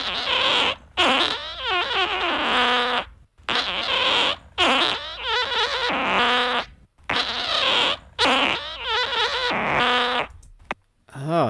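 Fart sounds run through auto-tune, turning into a string of pitched, warbling, squeaky tones in several loud bursts separated by short gaps, alone with no talking.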